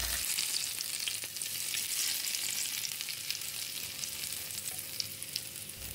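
Hot fried shallots and garlic in oil sizzling over sambal, a steady bright crackle and hiss with scattered pops, close and fairly quiet, no voices.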